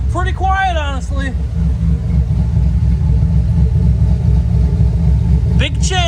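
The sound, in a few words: 6.2 truck engine running with new exhaust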